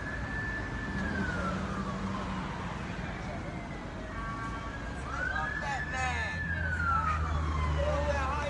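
An approaching ambulance siren wails and sweeps up and down at a distance over steady traffic rumble on a road in Connecticut, with voices talking nearby.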